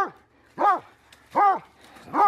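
A coon hunting hound bays three times in a steady rhythm, each a loud, drawn-out bark close by with short gaps between, during a raccoon hunt in east central Wisconsin.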